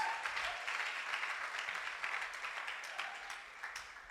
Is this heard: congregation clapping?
yes